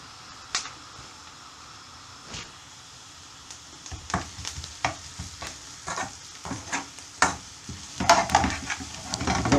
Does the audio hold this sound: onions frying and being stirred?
yes